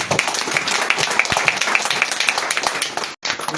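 A church congregation claps together in praise to God, a dense, continuous burst of moderately loud applause that cuts off briefly near the end.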